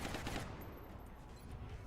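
Rapid gunfire from a turn-based alien invasion strategy game: a dense, continuous burst of automatic shots and a fusillade, moderately loud with no talking over it.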